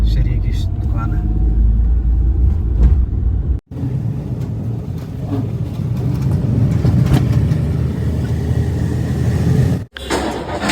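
A vehicle drives ahead toward a rebar shop, its engine giving a steady, loud low rumble with occasional revving. People talk over the drone, and the sound cuts out twice for a moment.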